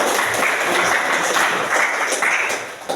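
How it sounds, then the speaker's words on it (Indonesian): Dense, loud applause from a classroom full of people, steady clapping throughout with no talking. "Tepuk tangan buat kalian semua."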